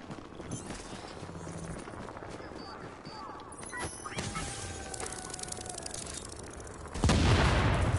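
A bomb goes off in The Division, set beside a tent: a sudden loud, broad blast near the end that stays as a heavy rumble, over busy game noise with tonal effects and voices.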